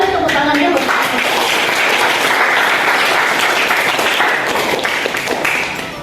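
Applause fills the room at a teacher-certification teaching presentation, a dense steady wash of many hands clapping that continues evenly for several seconds before easing slightly at the end.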